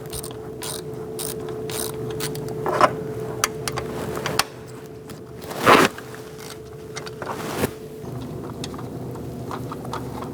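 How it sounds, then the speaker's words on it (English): A socket wrench loosens 10 mm bolts on a Cadillac ATS, giving quick ratcheting clicks in short bursts with a few louder metallic clanks, close up in a quiet garage. "I'm going to use a 10 millimeter socket, and we're going to remove these two bolts"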